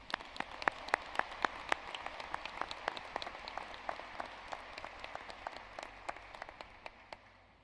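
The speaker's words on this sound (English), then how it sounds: "Please join me in applauding them." An audience at an undergraduate commencement ceremony applauds graduating students with sustained, dense clapping from many hands, steady and fairly distant throughout.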